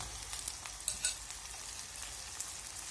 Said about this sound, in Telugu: అన్నీ వేసి బాగా ఇలా కలబెట్టుకోండి. నూనెలో బాగా మగ్గిపోవాలండి.